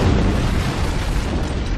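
An antimatter charge detonates aboard a ship in Halo: Combat Evolved, producing a loud, sustained rumbling boom with a dense roar that holds steady throughout, with no voices.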